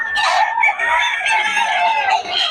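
Several roosters crow over a steady clucking of chickens at a Bocaue poultry yard, the calls loud, near and overlapping for the whole stretch.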